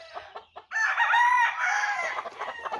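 A Lipper gamecock crows loudly in one long drawn-out call, with softer clucking from hens before and after.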